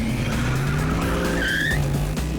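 A muscle car floors it with tires squealing loudly, the engine droning at a steady pitch under a high rising screech of rubber that stays close and strong throughout.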